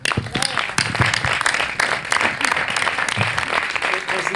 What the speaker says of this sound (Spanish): les damos un aplauso y empezamos